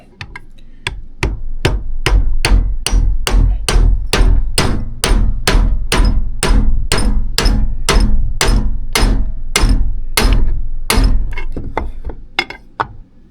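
Steady run of about two dozen sharp hammer taps driving a water pump seal onto its press fit during a rebuild of a 1998 Polaris Big Block 600 Liberty twin engine, loud and evenly spaced, then slowing near the end.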